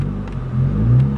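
A Volkswagen Rabbit or GTI engine revs briefly, its exhaust note a steady low rumble that swells slightly, close and loud with no talk.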